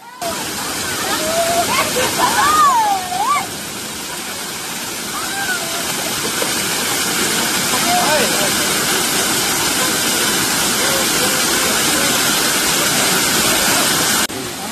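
Kumbakarai Falls pours in a constant loud roar of falling and splashing water, with a few voices and calls rising faintly over the rush near the start.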